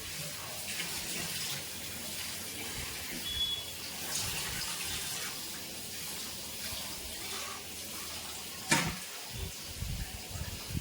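Water runs steadily from a tap while a wok is washed, a broad hissing wash throughout with a brief clatter near the end; faint and fairly close.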